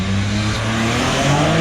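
Bi-turbo car breathing through a new exhaust silencer, a short, loud, close engine rev with a smooth, muffled drone that climbs slightly in pitch.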